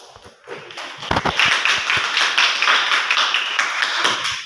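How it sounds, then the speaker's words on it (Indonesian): Children in a classroom break into a burst of applause, a dense patter of many small hands that starts with a few sharp claps and then holds steady for several seconds at close range. "Beri aplaus anak-anak"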